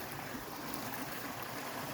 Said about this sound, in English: Water running through.